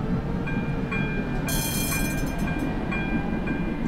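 A Tatra tram in a tram simulator rings its bell on departure, giving bright repeated dings over a loud, steady rumble of the running tram.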